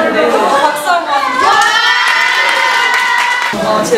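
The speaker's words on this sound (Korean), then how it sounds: "박수 한번" Students at a co-ed school erupt in loud, sustained cheering and excited shouting, voices layered densely throughout, with some clapping likely mixed in.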